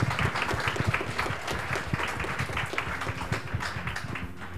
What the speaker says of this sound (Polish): jeszcze raz brawa dla was wszystkich